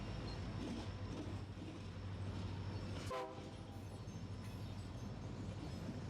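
A train heard from near its engine, a loud continuous rumble and rattle with a horn blast in the middle that briefly rises above the heavy steady roar.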